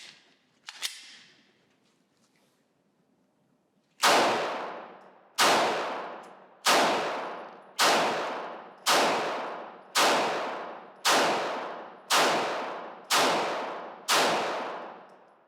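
Glock Gen 5 pistol fired on a range: ten sharp, evenly spaced shots about a second apart, each ringing out with a decaying tail, after a few seconds of near-silence and a faint early knock.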